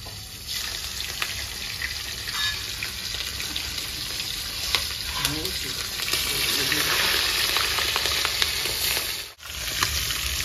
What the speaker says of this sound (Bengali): বন্ধুরা, তেল গরম হয়ে গেছে, মাছগুলো দিয়ে দেবো।